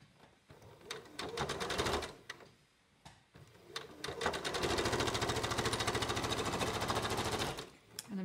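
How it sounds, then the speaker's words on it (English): A sewing machine stitches gathers onto a shirt yoke, with rapid rhythmic needle clatter in short runs and then a longer steady stretch, all close and fairly loud. "And I'm coming up and I'm sewing to the end of the yoke here."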